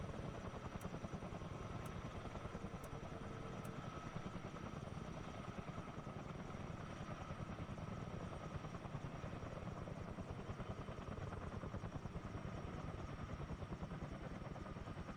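CH-47D Chinook twin-rotor helicopter in a flight simulator as its rotors wind down, a dense, steady rhythmic chop with a constant whine, heard alone at even volume throughout.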